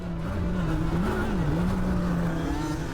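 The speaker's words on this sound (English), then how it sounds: "this machine that Glen is riding is a legendary quad bike" A Yamaha Banshee quad bike engine running at a grass track, a steady buzzing two-stroke drone that rises and dips slightly in pitch, continuous and moderately close with no speech.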